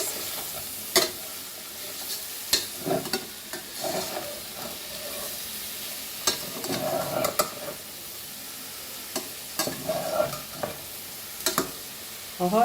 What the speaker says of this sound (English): ह्यो प्याक मातशें भाजून घेवया.